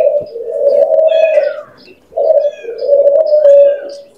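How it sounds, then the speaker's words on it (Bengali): King quail calling in a home pet enclosure, two drawn-out mellow cooing calls with a short gap between them, close and clear with faint chirps above. "এখানে আছে 4টা কিং কোয়েল"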